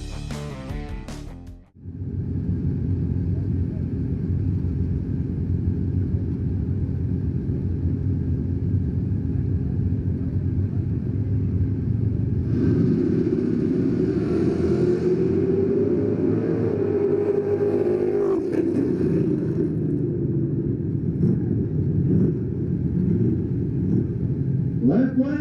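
Pro mod class cars in drag race finals, a loud sustained low engine rumble that swells and wavers midway as the cars run, with a brief drop near the start and a steady roar throughout.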